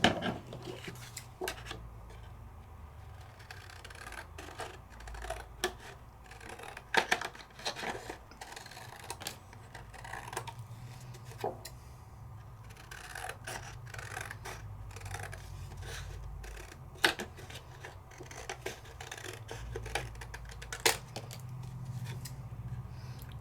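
Scissors snip through a paper stencil in short, scattered crisp cuts with pauses between them, close but fairly quiet against a low background hum.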